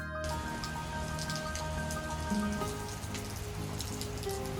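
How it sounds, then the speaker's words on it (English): Steady rain falls and patters on surfaces during a morning walk in Yaroslavl, Russia, a dense, even hiss of drops that continues without a break. "At the morning walks we got caught in the rain."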